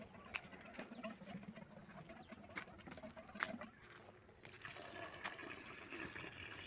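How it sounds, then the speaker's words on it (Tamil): Water gushes forcefully from the 1-inch outlet pipe of a 550 W solar-powered borewell pump, a steady splashing rush that continues throughout and grows slightly fuller and brighter toward the end, with no talk. "தண்ணி இவ்வளோ ஃபோர்ஸாக வருதுங்க."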